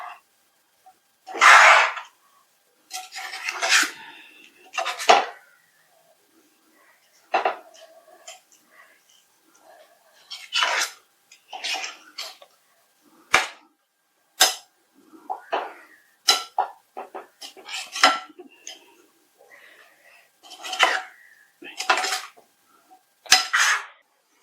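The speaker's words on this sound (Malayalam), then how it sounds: "നന്നായിട്ട് ഇളക്കി യോജിപ്പിച്ചു കൊടുക്കാം" A spoon stirs fried garlic, ginger and curry leaves into tuna pickle in a pot, giving a string of separate, close metallic scrapes and clanks with quiet gaps between them.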